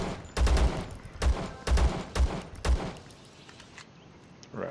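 Gunfire in the survival shooter Zero Sievert as ghouls are gunned down: four short bursts of several loud shots each, close and punchy, with quieter ambient game sound between and after.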